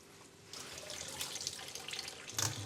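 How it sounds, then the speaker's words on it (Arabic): Warm water runs from a tap in a steady, splashing stream as a cloth towel is soaked under it at home, starting abruptly and growing briefly louder near the end. "هبل الفوطه كده بميه دافيه، هبلها كويس قوي"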